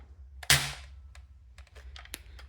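A Nerf blaster loaded with a loose rifle ball fires once with a sharp, close pop, followed by a few faint clicks and handling taps.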